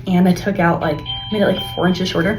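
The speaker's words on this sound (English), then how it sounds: "That's the doorbell, so she's here" Electronic doorbell chiming at home, two sustained ringing tones sounding faintly beneath someone talking close by.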